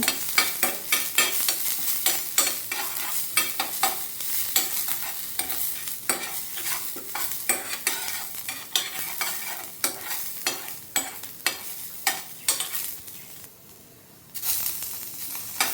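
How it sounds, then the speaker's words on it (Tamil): Ingredients for a Tamil dried-fish (karuvadu) curry scraped and stirred in a frying pan, with a steady sizzle under rapid, repeated spoon scrapes, close and moderately loud, and no voices. "நல்லா கிளறி வச்சுக்கோங்க"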